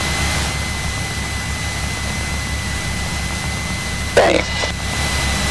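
Cessna 172 engine drones as a steady, loud low hum while the plane taxis, with a brief word spoken and a short rustle near the end.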